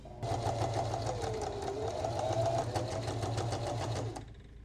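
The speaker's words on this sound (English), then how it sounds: "I'll sew this bias tape down so that when I put this one, the stitches will be under" A sewing machine stitches bias tape onto a jacket sample, a fast, even mechanical whirring patter with a rapid needle rhythm, running steadily for about four seconds close by before stopping abruptly.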